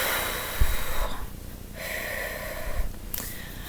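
Forceful breathing done to break up energetic connections, several strong breaths and puffs in quick succession, close and breathy, over steady background noise.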